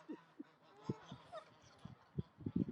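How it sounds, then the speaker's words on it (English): Honking geese and other fowl call out in short, scattered bursts across an urban park, faint and somewhat distant against a quiet outdoor background. "I was just getting away from all the noisy birds."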